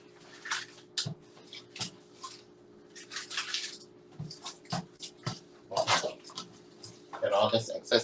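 Water from a kitchen tap runs in a sink while it is being cleaned out, splashing and dripping in irregular bursts with clunks and knocks of items being moved, under a steady hum and occasional talking.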